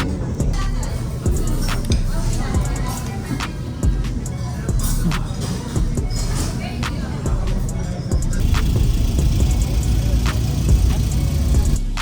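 A bus engine drones and rumbles steadily from inside the vehicle, with occasional knocks and rattles and background chatter from passengers over the low hum.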